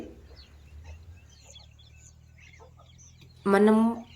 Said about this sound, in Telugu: ఇప్పుడైతే మీరు చూడొచ్చు దగ్గర 100 కోళ్ళ వరకు ఉన్నాయి